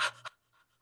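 A person's voice imitates fast, shallow, anxious breathing with two quick, breathy pants close to the listener. The first pant is stronger and the second is fainter.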